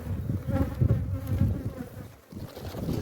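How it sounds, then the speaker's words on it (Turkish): A dense, low buzzing of many agitated honeybees around a hive close by, droning continuously with slight swells and dips. "agresif olmuş arı değil mi?"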